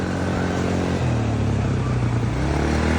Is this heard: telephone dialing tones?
no